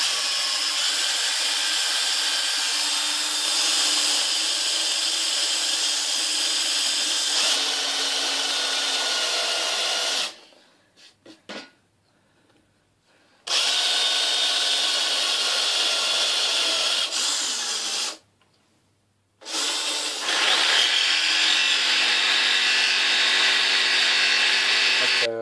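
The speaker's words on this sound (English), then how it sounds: "Now with a saw. I've cut the shape out" A saw cuts a shape out of a fiberglass cabin roof on a boat, a loud steady rasping drone broken by two short pauses, with no talking.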